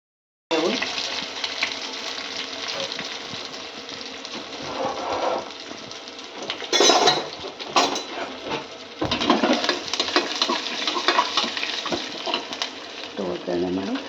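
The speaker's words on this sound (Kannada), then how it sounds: "ಒಗ್ಗರಣೆ ಮಾಡಿ" Mustard seeds and cumin sizzle in hot oil and ghee for a dal tempering, a steady, loud frying hiss starting after a brief silence and crackling close up for over thirteen seconds.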